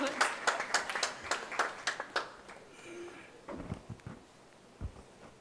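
Scattered hand clapping from a gathered audience welcoming the Governor of Goa at a charity event, loud and brisk for about two seconds, then thinning out as voices and room noise take over.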